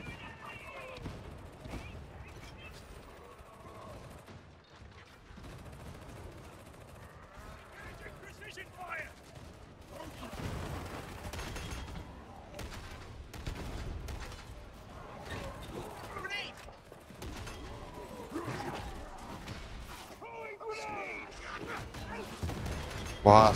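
Grenade blasts and gunfire from Warhammer 40,000: Darktide, in a chaotic run of impacts and battle noise, with someone talking over much of it.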